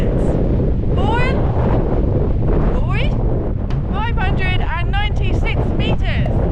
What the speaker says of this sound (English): I want to get out of this godforsaken wind.